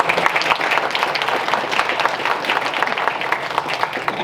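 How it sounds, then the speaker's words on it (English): Sustained audience applause for city council candidates at a candidate forum in Chandler, steady dense clapping from a crowd filling the room with no speech over it. "So everybody give them a round of applause just for that."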